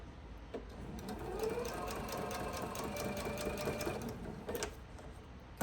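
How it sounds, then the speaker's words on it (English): A sewing machine runs steadily while stitching a quilt block for a four-patch quilt, a continuous close mechanical whir that holds for several seconds with a brief pause and restart near the end. "I'm going to sew until I get close to that pin without running over it"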